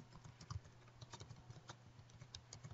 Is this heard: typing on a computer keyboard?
yes